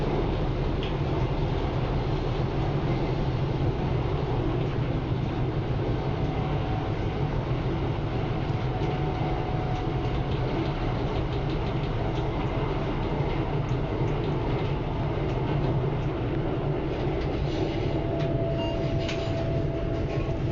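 Pune Metro train emerging from an underground tunnel, a steady loud rumble of wheels and motor heard from inside the carriage, with faint tonal whines rising near the end.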